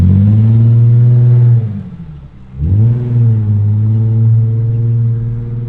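A BMW E46 car exhaust with the rear muffler removed drones loudly and deeply, briefly drops off, then revs back up and settles into a rough, throaty idle nearby.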